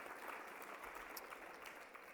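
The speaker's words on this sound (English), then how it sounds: "We'll take a round of applause." A conference audience in a general session applauds in a steady, even wash of clapping that holds for the whole stretch and sounds moderately distant.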